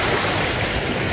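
Sea waves at the beach on San Victor Island, Davao Oriental, a steady close rush of surf mixed with wind buffeting the microphone, loud and continuous through the short stretch.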